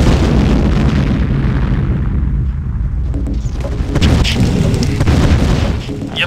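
A GDI unit is destroyed in Command & Conquer with loud, sustained booming explosions and rumbling battle noise. The blasts are heavy and continuous.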